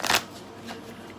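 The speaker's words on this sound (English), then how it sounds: "So I'm going to flip the cards." Tarot cards being shuffled and flipped, a loud riffling burst at the start followed by a softer card flick, close up with no voices.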